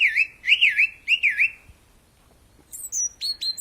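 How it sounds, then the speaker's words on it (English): Birds chirp loudly outdoors in a repeated series of bright, warbling calls, then a brief quiet gap, then higher, sharper tweets near the end. "If the birds continue, I'm gonna crank it down a little bit for us, guys, because that is so stinking loud."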